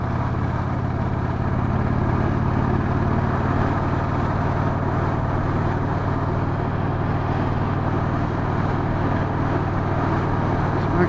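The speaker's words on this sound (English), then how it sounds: "This bike's got a real good sound to it for stock pipes." 2016 Victory Cross Country touring motorcycle with stock exhaust pipes running steadily, a continuous low engine rumble heard close and even throughout, overlaid with a soft rush of road and wind noise.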